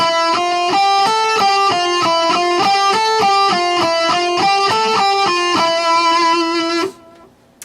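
A distorted electric guitar in standard tuning chugs through a rhythmic riff of repeated palm-muted chords, then cuts off abruptly near the end.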